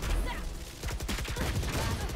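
Bulldog burst rifle firing in the Valorant shooter game: rapid bursts of close, loud shots crackle through the second half, over steady game ambience with a faint voice.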